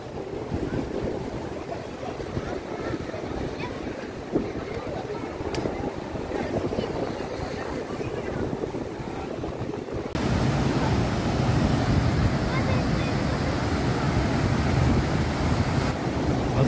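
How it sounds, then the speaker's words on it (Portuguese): Continuous roar of ocean surf with waves breaking in the distance at Gravatá beach, Navegantes, Santa Catarina, steady and broadband, growing slightly louder partway through with wind noise on the microphone. "as ondas tá quebrando longe"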